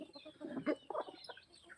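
Free-range country hens clucking inside a cow shed on a farm, a few close soft clucks and cackles rising in the middle of the stretch against quiet barn background.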